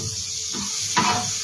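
Butter sizzles in a frying pan while a snack for a children's school tiffin is cooked. A steady, fairly faint crackling hiss is broken by a soft stir or scrape near the middle.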